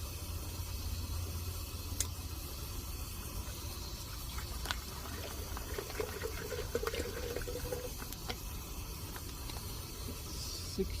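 Steady hissing flow of water pouring into a container, continuous and close, with a few faint clinks and knocks along the way.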